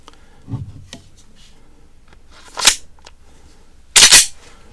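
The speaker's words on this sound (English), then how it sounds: "You see and you hear the dummy cartridge hitting the ground." An inert dummy pistol cartridge drops and clatters on a hard floor during handgun manipulation drills: a soft thud, then two sharp metallic clicks, the last one loud, with quiet gaps between and no talking.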